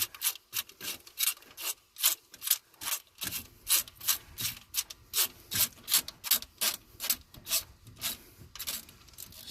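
Socket ratchet wrench turning during an alternator swap on a car, a rapid series of close, crisp clicking strokes in a steady back-and-forth rhythm, repeated for several seconds with no talking.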